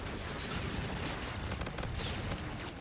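Dense, continuous turret gunfire in the video game Call of Duty: Infinite Warfare, a loud unbroken barrage of rapid shots filling the whole moment with no voices.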